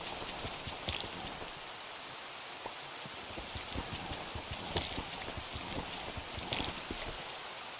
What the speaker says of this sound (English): And it's raining, so we gotta move quickly.